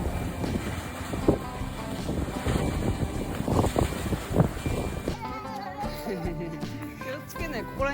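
Gusty wind buffets the microphone on an afternoon walk with a puppy through the Japanese countryside near a sugarcane farm, a steady broadband rush for about five seconds before a tonal passage takes over.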